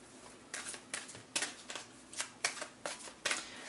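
Oracle cards shuffled in a tarot-style reading, a series of crisp riffling bursts roughly every half second, close and clear with no talking.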